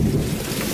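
Thunder during a heavy storm gives a loud, deep, continuous rumble with rain over it, filling the whole brief moment with no voices.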